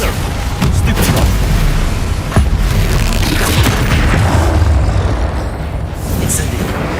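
Bombarda spell blasts in the video game Hogwarts Legacy, a dense rolling boom with sharp bursts layered over continuous combat noise, loud and sustained throughout.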